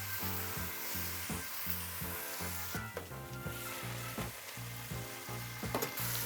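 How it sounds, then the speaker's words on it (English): Vegetables with garlic and tomato paste fry in a pan, a continuous close sizzle with scraping and stirring knocks and a low steady hum underneath. "Help the vegetables fry a bit harder."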